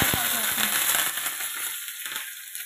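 Mustard seeds, chana dal, cumin and curry leaves sizzle in hot oil as a tempering for yogurt rasam, a steady close hiss with a few light clinks of utensils at the start.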